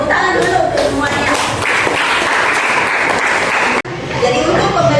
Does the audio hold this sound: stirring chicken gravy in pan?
no